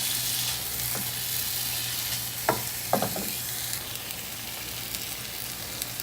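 Onions fry in a pan for chicken liver with a steady hissing sizzle, broken by a few stirring scrapes and clacks near the middle.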